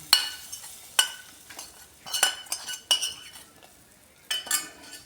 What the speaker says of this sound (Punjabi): ਤੜਕਾ ਸਾਡਾ ਭੁੱਜ ਗਿਆ ਤੇ ਇਹਨੂੰ ਆਪਾਂ ਕੜੀ ਦੇ ਵਿੱਚ ਪਾ ਦਾਂਗੇ